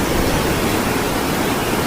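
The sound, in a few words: river water flowing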